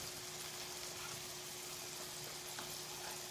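Turkey slider patties sizzle and fry steadily in a pan after being flipped, a constant close hiss with a faint hum underneath and no talk.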